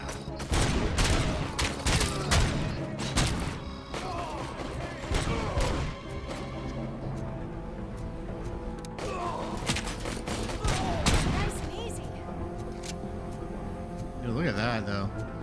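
Dense bursts of gunfire from partners shooting in a video game, heavy overlapping volleys at the start and again later, with game sounds and talk mixed throughout.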